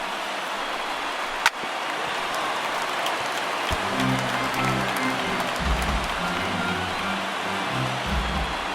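A baseball stadium crowd of over 39,000 at a Pittsburgh Pirates at Colorado Rockies game stands and cheers, a steady broad roar with a sharp crack early on and low tones rising beneath from midway.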